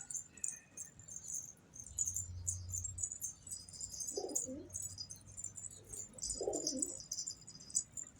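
Low, soft cooing from pigeons comes in a few short bouts, set against a steady high chirping of small birds in the background.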